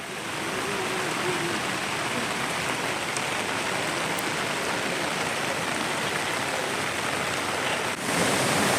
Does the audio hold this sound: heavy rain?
yes